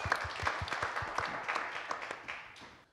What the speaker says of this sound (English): Let's give Robert a round of applause.